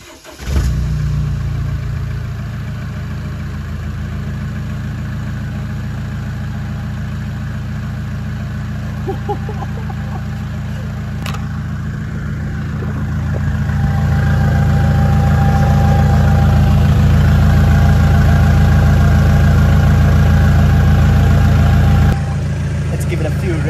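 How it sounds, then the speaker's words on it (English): A Mercedes 2.0 CDI turbo diesel engine with downpipe and 3-inch straight-pipe exhaust cranks and fires up, then idles with a loud, rough rumble that swells louder partway through, heard close from behind. "I'm going to put you guys behind the car for the first start up"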